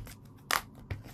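Scissors snip into the packaging of a DJI Pocket 3, with a couple of quiet cuts and one sharper, louder snip in the middle, close by.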